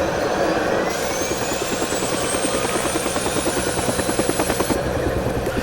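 Helicopter engine starting in Helicopter Simulator 2014: Search & Rescue, rotor blades thumping in a fast, steady rhythm, a rising turbine whine layered over the beat, loud and close.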